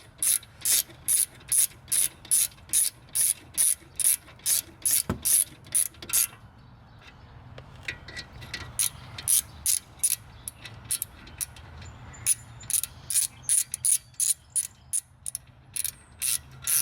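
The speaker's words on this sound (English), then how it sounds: "the torque setting on this is, I think, 22 foot-pounds" A ratchet clicks in quick, regular runs while tightening brake caliper bolts on a Mercedes-Benz W212 E350 4Matic, with a pause partway through before the rapid clicking resumes.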